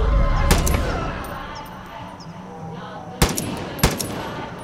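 In Far Cry 5, a few close, sharp gunshots crack out, one near the start and two later a half-second apart, over a low, steady ambient background.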